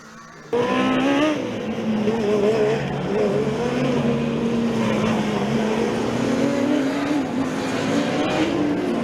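Formula Student race cars circle an endurance track, their engines droning steadily and loudly with shifting pitch as several cars run laps, a continuous mechanical roar with no talk.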